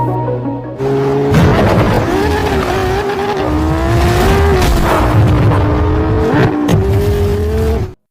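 A car speeding through a film chase scene, its engine revving hard with rising and falling pitch, tire squeals and whooshing passes, loud and close, ending abruptly.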